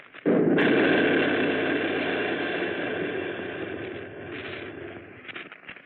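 An artillery gun fires in a wartime radio drama with a sudden loud boom, followed by a long rumbling roar that slowly fades over several seconds, with no talking.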